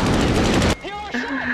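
Rapid bursts of jet fighter cannon fire from a Top Gun dogfight scene in a 1986 movie, loud and dense for under a second, then dropping to engine whine and radio voices.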